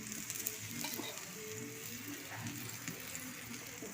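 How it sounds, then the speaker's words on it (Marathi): Ghee sizzling on a puran poli flatbread in a hot pan, a steady soft crackling hiss that stays fairly faint and even throughout, with no voices. "आता या पोळीला छान तूप सोडून घेऊ."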